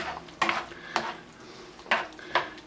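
A spoon stirs Thai curry beef with green beans in a pot, producing four distinct scraping knocks against the metal at an uneven pace over a low bubbling simmer, close and moderately quiet.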